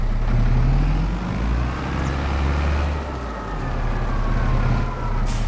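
A tractor drives in Farming Simulator 25, its steady engine drone loud and continuous, swelling and easing slightly as it moves, with no talking.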